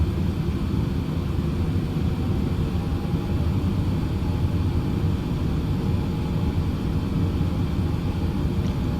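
A United Boeing 787-9 Dreamliner accelerates down the runway on takeoff, a steady, loud broadband engine roar filling the cabin without letup.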